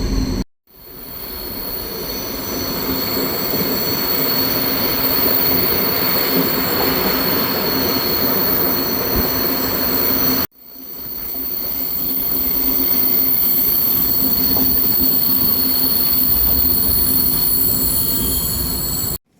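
The Flåm mountain railway in Norway runs loud and steady, its wheels squealing on the rails with a rumbling roar throughout, briefly cut once midway, close and continuous with no voices.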